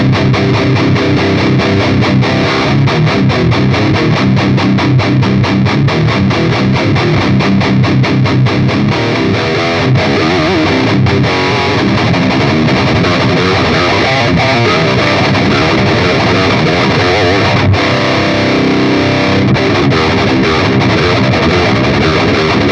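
Electric guitar played through distortion and effects settings on a Line 6 POD Express pedal, giving a loud, continuous, heavily saturated tone that stays dense throughout with no talking over it.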